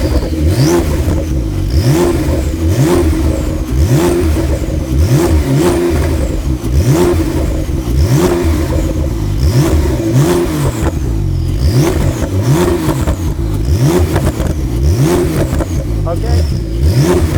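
The Techart GTstreet R engine revs repeatedly against its 3,500 RPM rev limiter, loud and close, with a steady rhythm of rising pulls that hit the cutoff, and a voice speaks over the revving.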